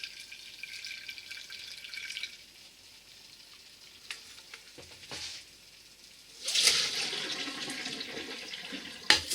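Hot water from boiling potatoes is poured and splashes onto a plate, a hissing wash of sound after quieter moments with a few clinks.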